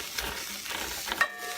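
Cremini and shiitake mushrooms with a pinch of salt sizzle softly in a dry pan, a brief steady frying hiss with a light stir, no voices.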